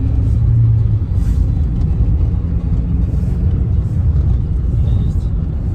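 A car drives along a road on a snowless winter day on the way to buy groceries, its steady engine and road rumble loud and continuous with faint voices underneath.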